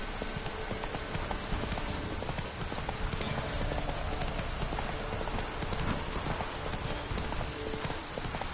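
Roach the horse gallops through rain in Witcher 3, its hoofbeats a steady rapid clip-clop beneath a dense, constant hiss of rainfall.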